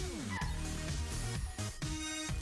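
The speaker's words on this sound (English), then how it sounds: "That's my dog in the background." A pet dog whimpers and yips in the background, high-pitched whines sliding up and down in several short bursts behind a steady indoor background.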